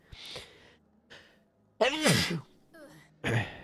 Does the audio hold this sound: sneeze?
yes